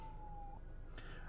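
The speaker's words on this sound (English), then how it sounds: "So there's an ambulance going by." An ambulance siren passes at a distance: a thin, faint, steady wail that drops off and then rises again, heard quietly over low background rumble with no one speaking.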